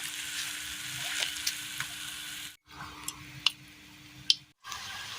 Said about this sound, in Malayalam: നന്നായി ഒന്ന് പൊരിച്ചെടുക്കാം.